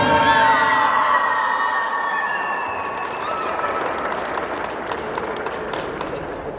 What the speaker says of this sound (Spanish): Muy bien, fuerte aplauso.